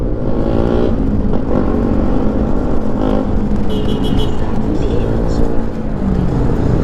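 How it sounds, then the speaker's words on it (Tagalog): Heavy road traffic on a December journey from Batangas toward Mindanao near Cagayan, a constant loud rumble of engines and passing cars with brief higher whines, with voices talking over it. "Sobrang traffic lang."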